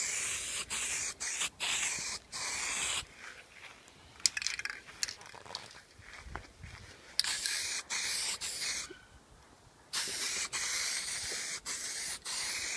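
Matte black spray paint goes onto sandpaper for a 1/24 scale diorama in several short hissing bursts separated by pauses, fairly quiet and close, with no voices.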